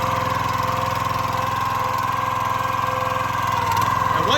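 A County Line 25-ton log splitter's small gas engine idles steadily after a pull start, a close, loud, continuous mid-pitched drone with even pulsing and no talk.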